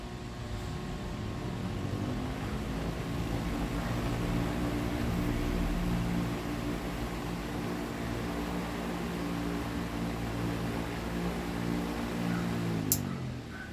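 A burnt-out electric fan motor runs during a capacitor test, making a steady, low mechanical hum with a faint whine that holds evenly for several seconds before a brief click near the end.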